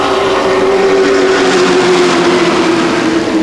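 Race trucks roar together at full throttle out of a restart at the Milwaukee Mile, a loud, dense engine drone holding a steady pitch for the whole stretch with no break.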